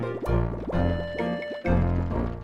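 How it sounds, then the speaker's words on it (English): Water gushes from a water tower faucet into an empty beer bottle in a Western-themed adventure game, a loud, close pouring and gurgling that rises in pitch in three bursts with short breaks between them. "You carefully fill one of your empty beer bottles with water from the tower."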